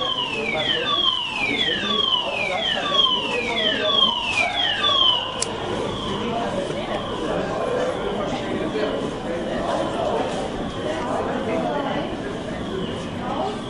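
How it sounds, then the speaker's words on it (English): A building fire alarm siren wails in rapid falling sweeps at first, then settles into a sustained, harsher alarm tone that keeps sounding steadily. "This is a fire alarm."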